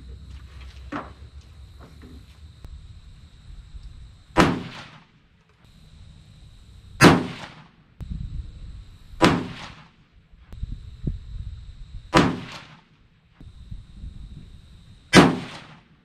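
Five sharp, loud 6.5 Creedmoor rifle shots at roughly two-second intervals, each a broadband crack with a short decaying tail, over a steady low background hum and faint clicks between shots.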